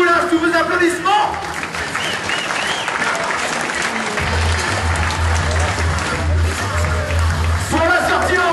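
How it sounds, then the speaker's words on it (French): Loud, sustained applause from a large crowd for rider Johan Triboulas, dense clapping throughout, with crowd noise and a low rumbling hum entering partway through and voices rising near the end. "Allez, tiens, Johan Triboulas, tous vos applaudissements."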